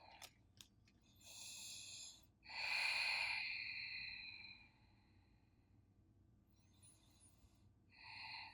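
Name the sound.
breathing during a yoga stretch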